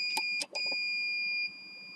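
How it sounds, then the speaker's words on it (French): A steady high-pitched electronic beep tone from an MTX Thunder TH902 amplifier with a burnt-out power supply holds for over a second, with a few soft clicks and knocks at the start, fairly close and clear. "Je sais pas si vous entendez le bip"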